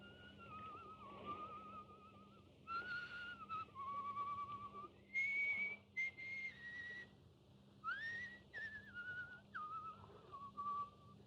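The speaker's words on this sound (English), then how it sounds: "He will pass the word Blackstone and whistle Annie Laurie." A person whistles the tune Annie Laurie in a radio drama, a clear, moderately faint melody of sustained and gliding notes in several phrases with short pauses over low background hum, and no talk.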